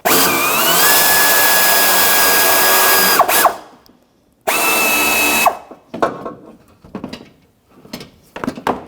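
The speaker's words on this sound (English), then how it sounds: "I loosened it up enough, I'm going to get my electric ratchet." A cordless electric ratchet whines steadily for about three seconds, stops, then buzzes again in a shorter burst while loosening a radiator bolt on a 2007-2017 Jeep Patriot 2.4L, followed by clinks and scrapes of handling.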